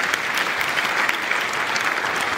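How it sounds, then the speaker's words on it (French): Audience applause at the closing ceremony of the Africa Cup of Nations, a dense, steady wash of many hands clapping at fairly close range, sustained without a break and with no voices over it. "C'est à applaudir, mesdames et messieurs."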